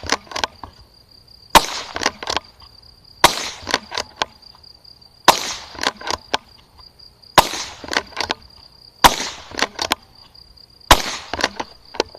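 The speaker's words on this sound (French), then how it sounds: "c'est juste pour faire voir la vitesse qu'on peut enchaîner les tirs" Rapid suppressed shots from an ISSC SPA .22 Long Rifle straight-pull rifle, fitted with a suppressor, fired outdoors in a steady series of sharp snaps about every two seconds, each followed by quick bolt-cycling clicks.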